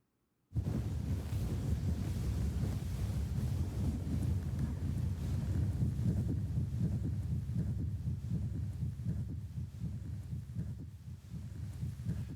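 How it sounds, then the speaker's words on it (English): Wind sound effect produced by blowing through a straw into a microphone, a loud, constant low roaring rush that starts abruptly after half a second and holds steady with gusty fluctuations to the end, no talking. "So this is a big wind blowing constant."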